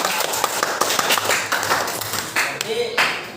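A school class claps hands together in a classroom, fast irregular bursts of close, loud clapping with a teacher's voice speaking over part of it.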